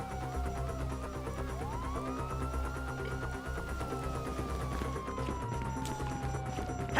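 A video game police siren wails, rising and falling slowly over a steady low engine rumble, heard at moderate distance with no voices.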